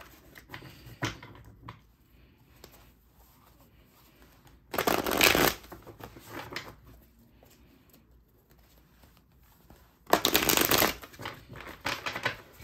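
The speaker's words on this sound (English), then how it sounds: "this deck is so hard to shuffle" Two bursts of tarot card shuffling, a stiff deck, each a loud riffling rush lasting under a second, separated by quiet stretches with faint handling noises.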